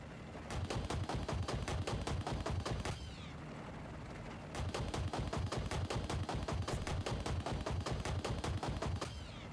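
Rapid automatic gunfire in Battlefield Bad Company rattles in two long bursts separated by a short pause, evenly spaced sharp shots at moderate distance with no talk.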